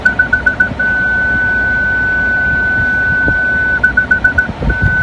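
A 2015 Ford Ranger 3.2 Wildtrak's front parking sensor beeps in rapid pulses, switches to a continuous solid tone, then returns to quick beeping, loud and close over engine hum.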